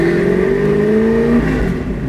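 1965 Ford Mustang R fastback with a 347 stroker V8 and five-speed, revving loudly up close, the engine note climbing then dropping back over about two seconds.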